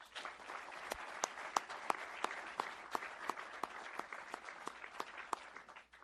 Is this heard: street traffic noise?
no